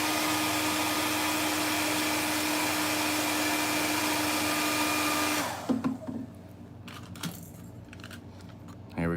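A hair dryer blows steadily on an airbrushed fishing lure, a loud continuous whirring roar that cuts off partway through, followed by quiet clicks and small handling noises.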